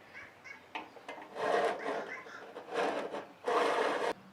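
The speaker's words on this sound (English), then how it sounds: "So I'm just going to cut this gutter with a hacksaw" A hacksaw cuts through a gutter clamped to a deck, rasping in three or four close, loud back-and-forth strokes.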